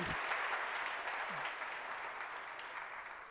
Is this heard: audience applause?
yes